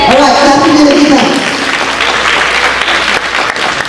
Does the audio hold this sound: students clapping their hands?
yes